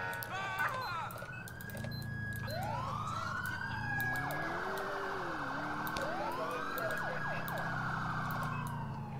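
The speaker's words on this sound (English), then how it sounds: "I installed a siren pack." A police car siren in LCPDFR, an installed Federal Signal siren pack, wails and sweeps up and down over a steady engine drone, with some rapid yelp bursts, while someone talks over it.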